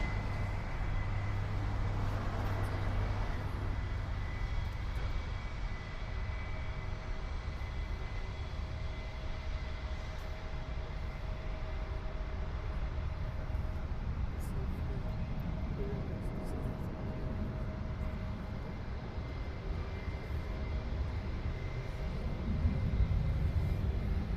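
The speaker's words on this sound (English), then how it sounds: "It's a United Airlines, Boeing 319, I believe." A United Airlines Airbus A319 airliner at Toronto Pearson airport produces a steady, distant jet drone that holds evenly for the whole stretch and swells slightly toward the end.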